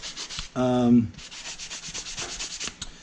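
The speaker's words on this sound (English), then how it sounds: "So you got to sand everywhere." Cast armor belt box parts being sanded before paint, with repeated close rasping strokes in a steady rhythm and a brief tonal squeak early on.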